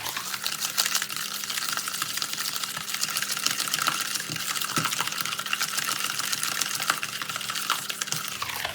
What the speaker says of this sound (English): we have the sugar and the butter, and we are going to mix them together